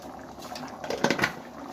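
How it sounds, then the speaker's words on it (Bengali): Chole curry bubbling in a pot, a brief burst of thick wet blurps and gurgles rising in the middle of a quiet background. "এবার ফুটবে একটু"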